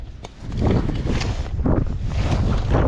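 Strong gusty wind buffets the microphone outdoors at a fishing lake in cold, wet Cornish weather, a constant roaring rumble with surges, water faintly in the background.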